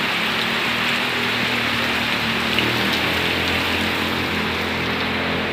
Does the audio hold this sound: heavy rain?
yes